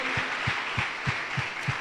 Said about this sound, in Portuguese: dê um aplauso bem forte a Ele nessa noite